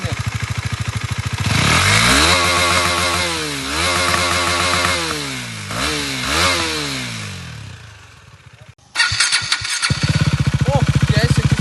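A KTM motorcycle with a modified exhaust runs loud and close, its engine note sweeping up and down through repeated revs before dropping away, then resuming as a steady, rough, burbling idle.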